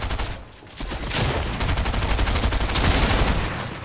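Sustained, dense gunfire in the Fortnite Chapter 3 battle royale: rapid overlapping shots and bursts rattle almost continuously, loud and close, with a short lull near the start.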